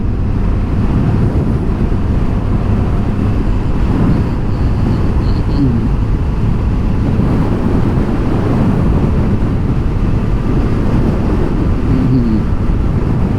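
Strong, constant roaring wind buffeting the mic while riding a Suzuki Hayabusa motorcycle at speed, a loud broadband rush dominating throughout with no talk.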